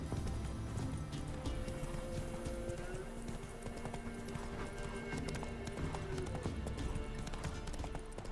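Roach, Geralt's horse in The Witcher 3 on PS5, gallops in a fast, continuous clip-clop of hooves, close and loud over game ambience, with no talking.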